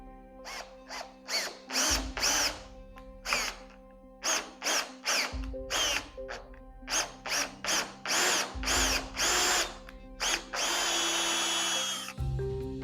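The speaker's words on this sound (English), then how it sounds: "let's see if we can tap it with the drill" A power drill threads a tapped hole in metal with cutting fluid, running in short repeated bursts of whirring that stop and start in an in-and-out rhythm, ending with a longer steady run, close and clear with no talking.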